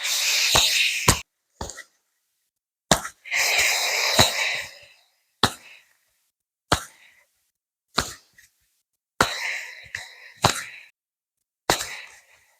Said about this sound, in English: So as well here, do 3 purifying breaths. Inhale through the nose. Exhale through the mouth.